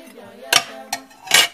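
Roughly chopped onion is tipped into a cooking pot for goat light soup, making three sharp clanks and clatters against the pot over a quiet background.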